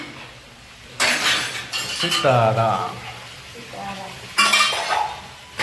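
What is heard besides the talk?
dishes and utensils clinking while being washed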